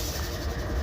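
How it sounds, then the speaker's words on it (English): A freight train with locomotives rumbling nearby on an auto wreck train, a dense continuous low roar with steady rail noise. "5493 is the second locomotive, and this is the auto wreck train."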